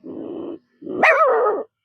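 A voice imitates a mother dog barking, starting with a low growl and then rising into a loud, close, drawn-out bark-whine, with nothing else heard.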